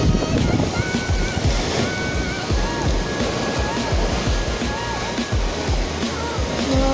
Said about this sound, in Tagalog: Grabe ang alon dito, guys.